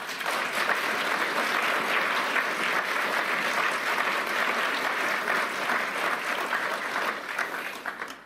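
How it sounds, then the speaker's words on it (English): Warm, sustained applause from a large conference audience at Davos welcoming Ukraine's president, dense and even from start to finish before fading at the close. "I think you can hear from the warm applause"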